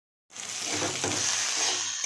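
Potatoes fry in a pan with green chili, turmeric and salt. A steady, close sizzle with faint stirring begins abruptly after a moment of silence and holds evenly to the end.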